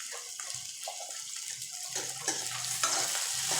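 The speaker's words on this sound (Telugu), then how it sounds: "ఇలా 10 నిమిషాల వరకు చక్కగా దొండకాయల్ని ఫ్రై చేసుకోవాలండి." Ivy gourd pieces sprinkled with a little salt fry in a pan with a soft continuous sizzle and occasional stirring scrapes, close and without talk.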